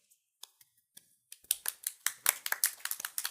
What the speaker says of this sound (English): Everyone gets a clap when they come up.